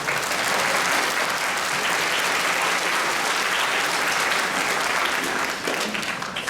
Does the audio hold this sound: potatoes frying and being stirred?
no